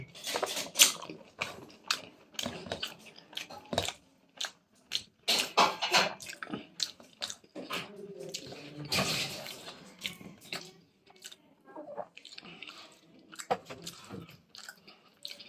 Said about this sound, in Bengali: একটু একটু বেগুন দিয়ে আর একটু তরকারি নিচ্ছি আর ডাল ভাত খাচ্ছি